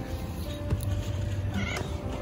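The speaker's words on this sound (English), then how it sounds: "Their meow is so sweet." A cat meows a few short times, close and soft, over a background of light noise and faint voices.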